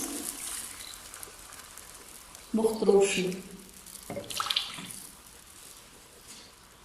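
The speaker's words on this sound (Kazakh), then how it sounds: "Ал енді қуырылған көкөністерге су құямыз" Water splashes and pours into a hot pan of fried vegetables for a few seconds, a brief hiss and gush, with a person speaking softly before and after.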